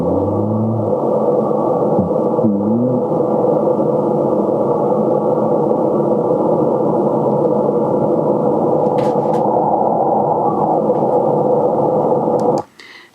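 White noise from a spirit-box style audio device, a loud steady band-limited hiss with faint warbling tones inside it, running continuously before cutting off abruptly at the end.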